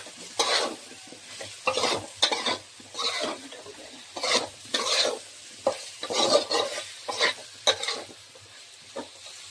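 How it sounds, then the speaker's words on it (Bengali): Chili and coriander powder being stirred in a sizzling pan, with repeated scraping strokes in an uneven rhythm over a steady background sizzle, close and fairly loud. "গুঁড়ো লঙ্কা, ধনে গুঁড়ো, এবার ভালো করে নেড়ে নিতে হবে।"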